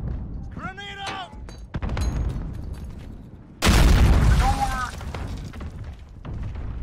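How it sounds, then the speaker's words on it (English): A grenade blast in the Modern Warfare beta, a sudden loud booming burst about halfway through that decays over a second, surrounded by in-game sounds with a player's voice talking around it. "Grenade out!"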